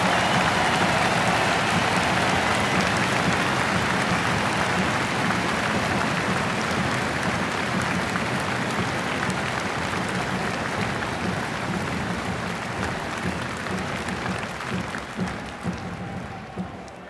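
A large crowd at a final election campaign rally in Belgrade claps loudly and continuously. The dense, sustained applause gradually tapers off toward the end.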